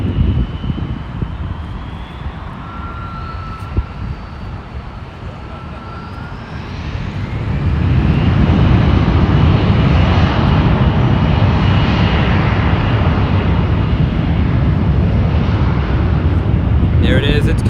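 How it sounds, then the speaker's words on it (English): A Qantas Airbus A380 airliner on approach at Los Angeles International Airport, a loud roaring jet rumble that swells midway and holds steady, with wind buffeting the microphone. "There it is, it's coming, the behemoth of an airplane."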